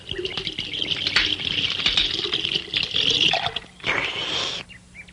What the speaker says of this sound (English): could I possibly have a drink of that water?